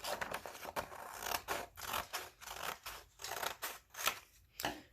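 Scissors cutting through a sheet of paper to trim it into a square, a close, quiet run of rhythmic crisp snips and scratchy slices repeating steadily without talk.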